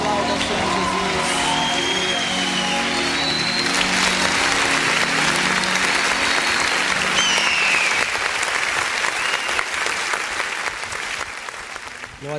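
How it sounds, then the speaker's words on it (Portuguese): A church congregation breaks into loud sustained applause after worship singing, dense clapping with cheers and whistles over fading music and voices. "Aplauda o Senhor Jesus."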